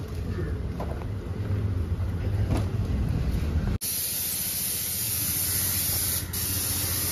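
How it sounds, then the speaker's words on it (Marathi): A car is washed with a pressurised water spray at a car wash in Kerala, giving a loud, continuous hissing rush that shifts sharply in tone partway through, with no talking. "कार वॉश करून आता"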